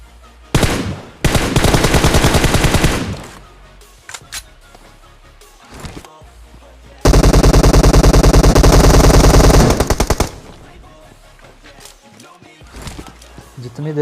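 Rapid automatic gunfire in the shooter game PUBG Mobile, loud bursts in two extended volleys with short single shots in between, under a voice talking.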